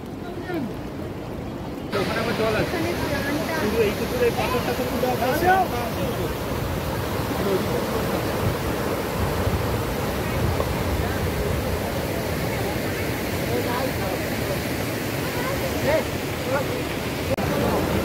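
The Dawki river's current flows in a steady, broad rushing wash, close and continuous throughout.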